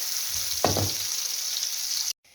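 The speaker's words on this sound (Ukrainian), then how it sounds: "з однієї сторони вже трошечки просмажилися кабачки" Zucchini in cheese-and-egg batter fries in a pan with a steady, bright, continuous sizzling hiss, broken by a single soft clink early on.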